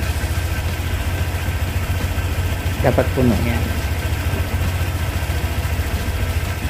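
A Honda Click 125i scooter engine idles steadily with a low, even drone throughout, while a person speaks briefly over it near the middle.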